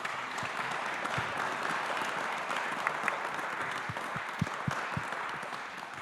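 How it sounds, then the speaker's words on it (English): Steady applause from a crowd, a dense wash of clapping with a few sharper individual claps standing out, continuing throughout. "I invite a round of applause to our speakers."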